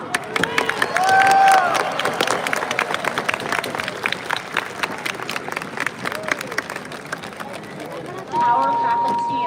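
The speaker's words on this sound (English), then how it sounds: "let's also cheer your family and friends with a big round of applause" Crowd at a college of science and engineering graduation claps and cheers for families and friends in scattered, uneven bursts with whistles and shouts, swelling again near the end, with voices mixed in.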